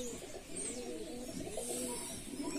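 Domestic working pigeons in a loft coo continuously, with soft overlapping throaty calls rolling steadily throughout at a modest distance, with no talking.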